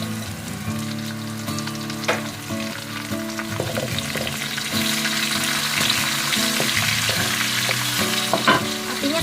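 Garlic browning in a pan with sliced red chili added, a steady close sizzle and crackle of frying with occasional stirring clinks, no talk.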